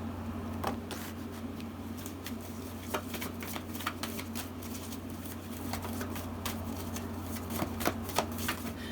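Tarot cards are shuffled close by in soft, irregular riffling taps over a low steady hum, continuing throughout.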